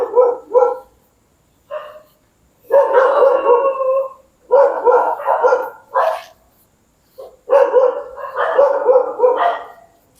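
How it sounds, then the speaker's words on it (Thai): Dog howling in a series of long, wavering wails, loud and close, broken by short gaps and a few quick yips, with no talk over it. "หมาหอนแล้ว"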